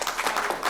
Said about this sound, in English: can we give these two individuals a round of applause